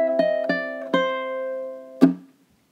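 Ukulele plays measure 12 of a song: three plucked chords in quick succession that ring out, then one sharp muted strum, close and clean with no talking.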